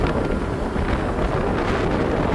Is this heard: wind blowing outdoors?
yes